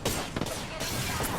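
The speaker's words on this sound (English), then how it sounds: "I kind of left my gun on semi-auto mode, so I'm like, man, I kind of just have to tap fire." Gunfire from a semi-auto weapon tapped shot by shot in Apex Legends gameplay. A few sharp, dense cracks stand out over a busy, noisy mix of game sound.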